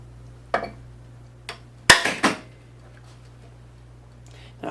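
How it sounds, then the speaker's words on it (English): A single heavy hammer strike on a Puch moped handlebar stem nut gives a sharp metallic crack with a short ring, among a few lighter taps and handling knocks nearby. "this is going to get one really heavy tap from the hammer right here"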